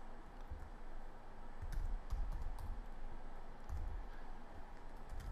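Someone types on a computer keyboard while entering column headings into a Microsoft Word table. Quiet, fairly quick key clicks come in uneven bursts over a low room hum, with no talking.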